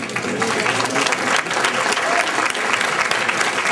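Steady, loud applause fills the room from an audience at a football awards banquet, with dense clapping that carries evenly from start to finish.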